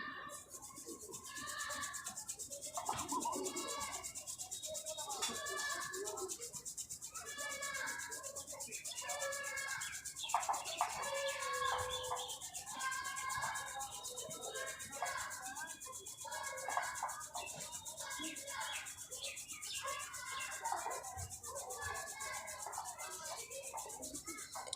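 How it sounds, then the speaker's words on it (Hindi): A sheet of paper rubbed steadily against hair to build static charge, giving a continuous close scratchy rustle with rhythmic back-and-forth strokes throughout. "इसको अपने हेयर से रब करूँगा इसको"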